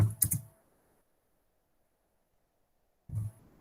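A few quick clicks of computer keyboard typing, a short cluster at the start and another after a silent pause, close and faint.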